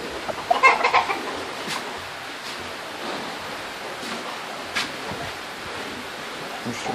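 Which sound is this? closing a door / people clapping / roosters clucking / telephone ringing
roosters clucking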